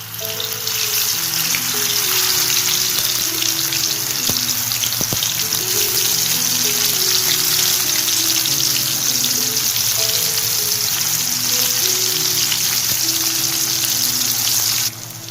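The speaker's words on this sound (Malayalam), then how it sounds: "ഇനി ഒരു പാനിൽ എണ്ണ ഒഴിച്ച് ചൂടാകുമ്പോൾ നമ്മൾ മാരിനേറ്റ് ചെയ്ത് വെച്ചിരിക്കുന്ന മഷ്റൂം കുറച്ചായി ഇട്ടിട്ട് ജസ്റ്റ് ഒന്ന് ഫ്രൈ ചെയ്തെടുക്കുക" Marinated mushrooms fry in hot oil in a pan, giving a loud, steady, close sizzle that runs nearly unbroken throughout, with faint tonal sounds underneath.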